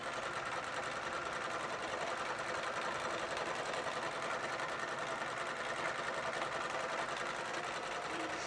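A 4-in-one domestic sewing machine runs steadily for the whole stretch, its motor whirring and needle clattering in a constant dense rhythm, close and fairly loud with no talk over it.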